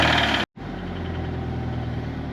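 A broken Toyota GT86 engine runs at a steady low idle with a rough mechanical drone, cutting out for a split second before resuming loud and continuous.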